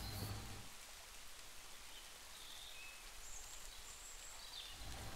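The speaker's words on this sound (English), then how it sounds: "Wow, it's starting to rain" Soft, steady rain with scattered raindrops pattering on a surface as a light continuous hiss, fairly quiet and with no voices.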